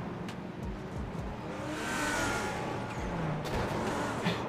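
A race car in the iRacing sim spins out as the driver mashes the throttle, with a steady engine roar that swells into revving and tire noise midway, continuous and fairly loud.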